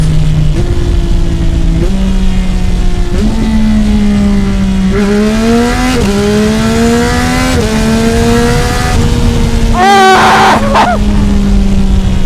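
A 2025 Yamaha R9 motorcycle fitted with a Yoshimura full system exhaust and an ECU flash revs repeatedly, each throttle blip climbing in pitch before a sharp high rev near the end. The exhaust is loud and close, with an excited voice heard faintly.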